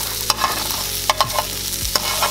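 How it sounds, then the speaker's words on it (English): Seitan, a wheat gluten fake meat, browning on a skillet, a brief, steady close sizzle with a few sharp spatula taps and scrapes, no voices. "For now, I'm just browning it on a skillet."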